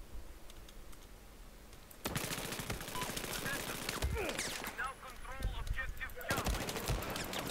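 Rapid bursts of automatic gunfire from a competitive shooter video game erupt after a quiet start, with clattering keyboard keys and a player's voice talking under the shots.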